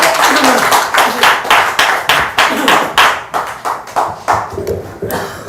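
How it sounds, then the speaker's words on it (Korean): Applause from an audience at a seminar, heard as a run of rhythmic, fairly loud claps in regular bursts, close and unbroken by speech. "박수를 한번 해주세요."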